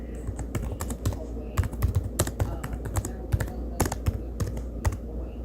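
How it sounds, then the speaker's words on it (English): Fast typing on a computer keyboard, close and clear, with bursts of sharp key clicks and a few louder spacebar or enter strikes in an uneven rhythm, no talking. "Hold on, let me type something."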